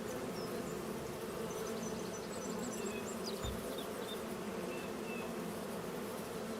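Bees hum continuously in Farming Simulator 25, a dense, steady swarm drone with scattered higher chirps over it and no talking.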